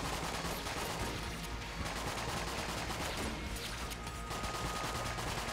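Arc weapon firing rapidly in the modded game Enter the Gungeon, a steady stream of crackling shots that blurs into a continuous barrage, even in loudness throughout and with no voices.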